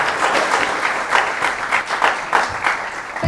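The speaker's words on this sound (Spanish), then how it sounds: "un aplauso para él" Audience applause at a Universidad Católica economics faculty event for guest Jaime Bellolio: a room of people clapping in a lively, uneven patter with rhythmic surges, moderately loud and close, no talking over it.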